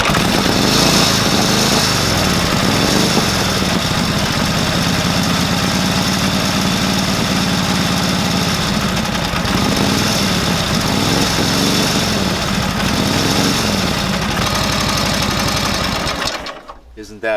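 A pre-war Harley-Davidson motorcycle engine runs at quarter throttle, a loud, steady, rapid mechanical chatter close to the microphone that holds for many seconds before cutting off at the end.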